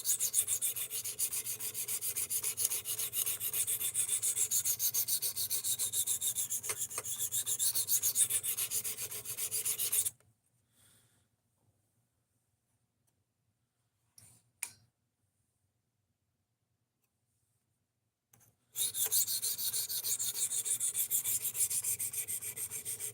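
A Rex 121 steel knife edge polished on a sharpener gives steady close rubbing and rasping strokes for about ten seconds, then near silence with a couple of faint clicks, then the same continuous scraping resumes to the end.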